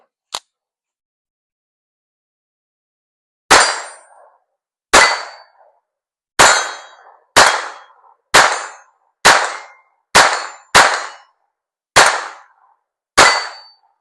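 Ten shots of Federal Auto Match from a Volquartsen-Ruger hybrid MK3 .22 pistol with a Tandem Cross Game Changer Pro compensator, each a loud pop followed by a ringing clang from steel targets, spaced about a second apart after a short quiet lead-in.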